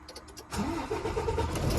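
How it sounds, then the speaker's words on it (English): A truck engine cranks and catches during an in-cab pre-trip inspection, turning over after a quiet moment and settling into a loud, steady idle close by. "Start the truck."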